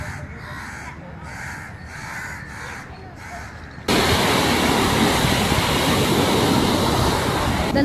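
Crows caw in four or five loud, evenly spaced calls on a beach over a soft background wash, then the crash of surf swells up and roars continuously, close and steady, drowning everything else.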